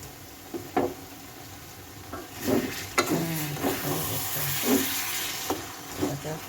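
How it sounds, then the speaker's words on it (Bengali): Spinach stirred and fried in a pan for a spinach-and-fish ghonto: a steady soft sizzle under repeated scraping and stirring knocks at an irregular rhythm, close and moderately loud. "এখন ঘেটে ঘেটে এভাবে ভেজে ভেজে নামাতে হবে"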